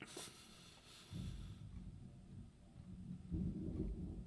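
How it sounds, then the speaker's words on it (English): Big thunder rumbling outside during a storm, two heavy, deep rolling booms with a crackling start and a quieter lull between them, with no talking. "Some big thunder boomers out there."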